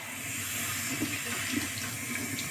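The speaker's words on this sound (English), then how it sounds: "So rinse it out with just water" Water runs steadily from a tap with a soft, continuous splashing hiss, close by, with small gurgling bursts as it rinses a blender in the sink.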